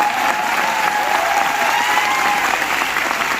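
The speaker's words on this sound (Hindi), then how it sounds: "तालियां आपकी बता रही होगी आपको कितना आजाद है" An audience at a motivational success talk breaks into loud, dense applause, sustained clapping from many hands at a steady level throughout.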